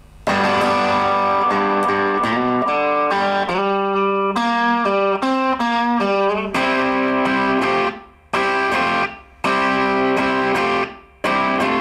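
Distorted electric guitar plays a chorus section, with sustained ringing chords and a shifting run of notes, then choppy stabbed strums with short gaps, loud and close with no talking.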